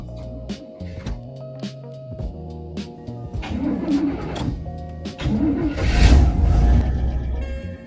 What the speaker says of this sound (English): All right, crank, and let's see if the fuel pump's what did it.